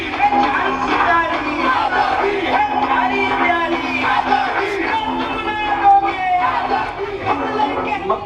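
A large crowd at a rally for freedom chants and shouts in unison, voices massed and sustained with rising swells, loud and close.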